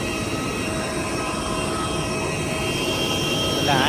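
A passenger plane landing at an airport gives a steady, loud, broadband roar that holds throughout and swells slightly toward the end.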